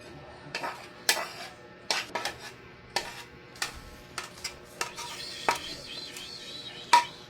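Dishes and cutlery clink while garlic butter shrimp is served at home: a string of sharp, separate clinks and taps of plates and utensils, close and irregular, with brief pauses between them.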